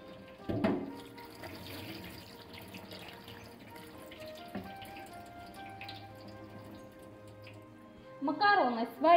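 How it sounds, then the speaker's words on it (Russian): Cooked pasta rinsed under a cold kitchen tap, a quiet steady stream of running water with a few clatters, and a louder splash of water near the end. "Макароны сварили, промыли холодной водой"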